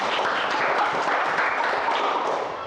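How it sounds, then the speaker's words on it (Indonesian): Students in a classroom give steady applause for a presenting group, a dense patter of clapping hands that holds at even volume and tapers off at the end. "beri tepuk tangan dulu untuk kelompok 1"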